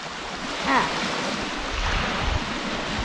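Waves washing onto a rocky Lake Erie beach, a steady broadband wash with gentle surges and some wind noise, close by, with faint voices briefly audible.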